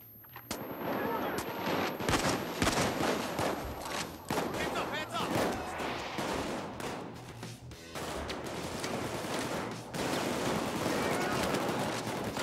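Gunfire in the video game Payday 2 rattles in dense, continuous bursts, loud and busy, with players talking over the shooting throughout.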